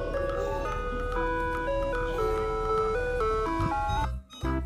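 A toy ice cream truck plays its tinny, music-box jingle as a steady stepped melody, loud and close, cutting off abruptly near the end.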